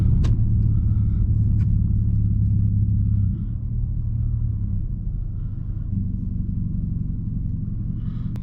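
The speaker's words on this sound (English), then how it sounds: "listen to that idle, boy. That idle alone, too." A straight-piped 2020 Nissan Altima idling, its deep, throbbing exhaust rumble close and steady, dropping slightly in level partway through and holding a low burble to the end, with no talking.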